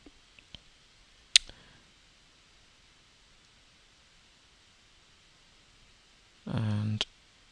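A few isolated, sharp computer mouse clicks in a quiet room, soft and close, with a brief rustling burst of noise near the end.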